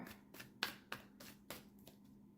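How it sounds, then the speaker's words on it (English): Cards being shuffled nearby, a series of quick riffling snaps and soft slaps, about six bursts in a few seconds, in an otherwise quiet room. "Let's get 2 more shuffles, please."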